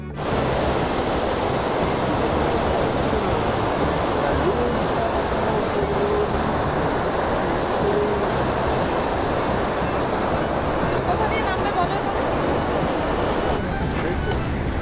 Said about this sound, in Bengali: যেখানে আমরা দেখব জলঢাকা নদীর খরস্রোতা রূপ।